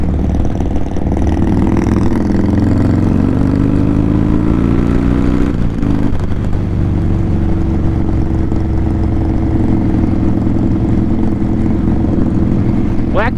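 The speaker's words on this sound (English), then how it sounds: "there's so many bikes coming in and going out" Motorcycles rolling in and out at a pre-rally blessing of the bikes gathering, engines droning and rumbling continuously nearby with a passing rev swelling and fading, one brief clatter midway, a steady outdoor mechanical din throughout.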